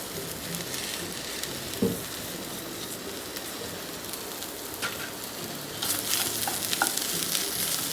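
Okra and potato pieces fry in a pan with a dense, continuous sizzle and crackle, a brief stir near the start and the frying growing a little louder and more spattery toward the end.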